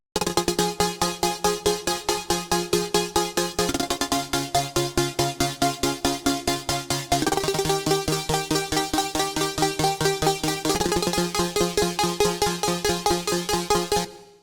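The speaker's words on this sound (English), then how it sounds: "Chord Beauty has a really dope LFO rate automation," Chord preset Chord Beauty from Serum, a future bass synth patch, plays sustained chords whose volume pulses in a rapid rhythmic chop from LFO rate automation, the chord changing about every three and a half seconds, loud and alone.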